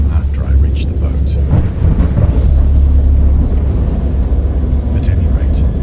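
A thunderstorm in the horror video game Dagon rolls as a deep, continuous low rumble with faint rain hiss, loud and unbroken throughout, while a narrator's voice may sit faintly beneath it.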